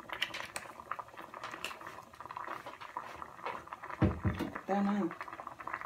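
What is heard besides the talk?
spaghetti noodles boiling in a pot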